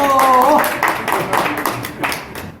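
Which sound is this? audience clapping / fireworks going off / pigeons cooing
audience clapping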